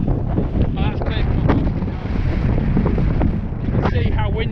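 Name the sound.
strong wind on mountain summit, Pen y Fan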